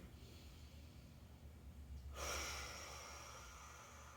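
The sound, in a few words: deep rib cage, back and belly breathing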